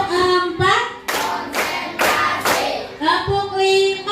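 A class of pupils plays a rhythmic clapping ice-breaker, with a run of five or so loud, sharp unison claps in a steady beat, framed by an adult voice calling out the count.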